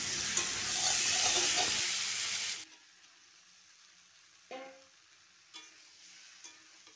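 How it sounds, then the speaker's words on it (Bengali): Pumpkin and shrimp fry in a covered pan, giving a loud steady sizzle for the first few seconds. The sizzle then drops to a quiet hiss, broken by a few short clinks and scrapes. "দিয়ে সব উপকরণগুলো খুব ভালো করে মিশিয়ে আমি এটাকে 2 মিনিট সময় ধরে ঢেকে ঢেকে ভাজতে থাকবো"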